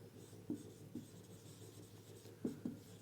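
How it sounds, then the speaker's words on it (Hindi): A pen writes on paper or a board during a physics lesson on capacitors: four short, distinct scratchy taps and strokes in two pairs, close and fairly quiet, with no talking. "अब आगे जो मैंने बताया वो लिख दे रहा हूं।"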